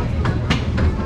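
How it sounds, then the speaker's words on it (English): A zoo train at the Jacksonville Zoo rolls along, its wheels giving a steady, evenly spaced clickety-clack over a constant low rumble, close and moderately loud, with no talking. "We're all aboard at the train at the Jacksonville Zoo."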